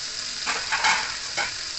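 Food sizzles in hot oil in a small wok, a soft continuous hiss with a few brief louder crackling swells, close and moderately loud with no talk.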